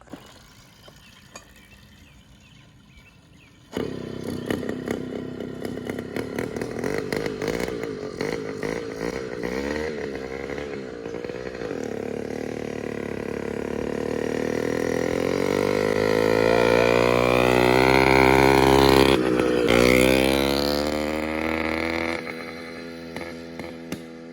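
A small two-stroke motorized bicycle engine with a new exhaust sputters to life after a quiet start, then revs and rises in pitch with a raspy buzzing exhaust, briefly dipping before revving again.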